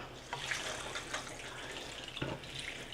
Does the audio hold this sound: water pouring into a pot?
yes